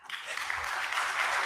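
An audience claps together at a talk, a brief dense burst of applause that holds steady and fairly loud for about a second and a half.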